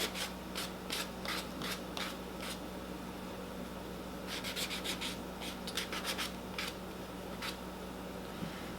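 Repeated short rasping strokes of sandpaper against the edges of polymer clay earrings, quick bursts separated by pauses, close and fairly quiet over a steady low background hum.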